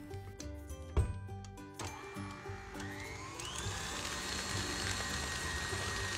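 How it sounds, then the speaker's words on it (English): Cream cheese is whisked in a bowl, a steady whirring churn that builds and holds after a few scattered clinks and knocks at the start. "whisk it for a few minutes until it's light and fluffy"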